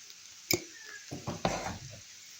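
Fried potatoes get stirred in a frying pan after salting, with a sharp utensil knock followed by a few soft scraping, shuffling strokes against the pan, close up and with no talk.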